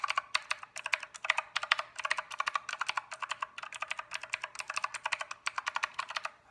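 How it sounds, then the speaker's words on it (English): Rapid, steady key presses on a RedDragon K552 mechanical keyboard, each keystroke a crisp, close click in a continuous typing rhythm, with no voices over it. "I really like the noise of that mechanical sound"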